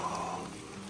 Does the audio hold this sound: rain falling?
yes